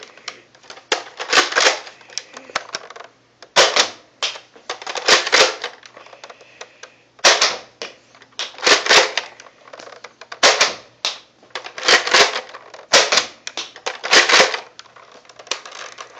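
A Nerf Vortex Praxis toy blaster fires repeatedly at a wall, giving close, sharp plastic clacks in uneven rapid bursts separated by short pauses, with no talking.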